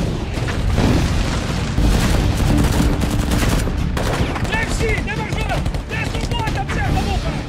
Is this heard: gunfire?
yes